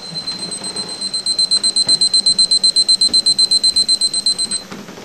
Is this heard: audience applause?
no